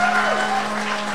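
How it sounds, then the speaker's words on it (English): Brief clapping from a convention panel audience at RTX 2016, short and fairly loud with a steady tone and some voices mixed in. "Can I get a little applause for the slides"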